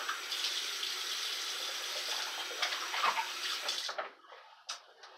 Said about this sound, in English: So I'm going to rinse off.